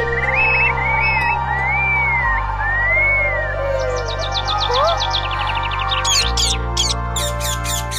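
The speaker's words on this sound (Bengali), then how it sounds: "পাখিগুলো কি সুন্দর।" Birds chirp and whistle in bright, looping calls, followed by rapid bursts of sharp, repeated tweets close by.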